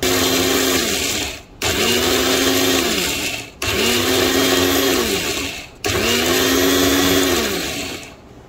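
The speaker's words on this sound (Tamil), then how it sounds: "இதை வந்து மிக்சி ஜாரில் நம்ம போட்டு நம்ம வந்து இது வந்து கிரைண்ட் பண்ணி எடுத்துக்கலாம்." Mixer grinder jar pulverising dried raw banana into powder, loud steady whine in four bursts separated by brief pauses, no talking.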